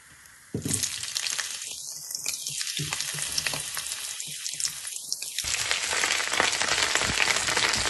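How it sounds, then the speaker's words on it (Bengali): Whole cumin seeds and dried red chillies hit hot mustard oil, and a loud sizzle bursts in after a quiet start, with crackles and spits that build into a steady, close frying hiss, with no talking. "সর্ষের তেল গরম করে নিয়ে তার মধ্যে গোটা জিরে আর শুকনো লঙ্কা ফোড়ন দিয়ে দিচ্ছি।"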